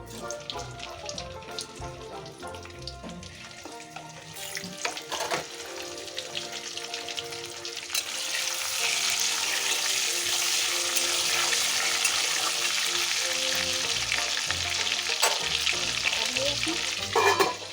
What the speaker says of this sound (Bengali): আলুগুলো ভেজে রাখুন, একটু হলুদ দিচ্ছি, একটু নুন দেবো সামান্য, একটু অল্প ভেজে রাখি, ভেজে তুলে রাখি।